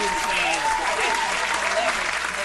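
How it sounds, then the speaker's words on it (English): Loud, dense clapping fills the whole stretch as a round of applause on a talk show, with voices faintly mixed in. "let me just like give you a round of applause"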